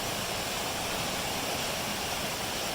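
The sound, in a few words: river water flowing over rocks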